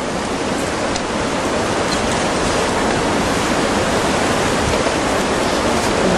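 Dense, unbroken roar of rushing floodwater from a huge tsunami in Minamisanriku, a loud broadband wash like a waterfall that holds steady throughout with no pauses.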